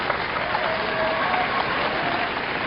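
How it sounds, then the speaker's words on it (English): Sumo fans in an arena applaud steadily through a bout between Asasekiryu and Tokitenku, a continuous dense wash of clapping at moderate distance. "We're getting applause from the fans"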